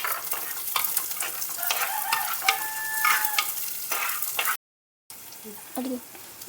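Onions and green chillies fry in a pan with a dense, continuous sizzle while a spoon stirs and scrapes through them, close and loud, broken by a brief gap near the end.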